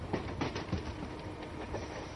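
A train runs on rails with rhythmic clicking and clunking over joints, a steady rumbling rolling sound lasting a couple of seconds with no voices.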